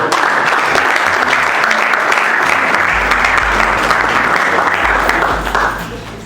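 A large audience at a digital-skills event in Kinshasa applauds loudly and steadily with dense clapping, and the applause fades toward the end.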